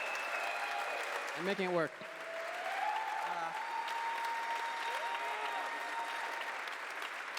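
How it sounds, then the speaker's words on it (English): Applause from a theatre audience at the PAX West 2021 gaming convention, a steady broad wash of clapping filling the hall throughout, with someone speaking briefly over it near the start. "Big round of applause for PAX and putting this thing together in the middle of a pandemic"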